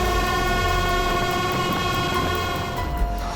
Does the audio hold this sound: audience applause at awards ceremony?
no